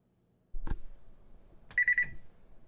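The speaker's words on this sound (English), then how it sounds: "And that's the beep from the microwave." Kitchen microwave beeping: a short series of three quick electronic beeps, fairly close and clear, preceded by a single dull knock.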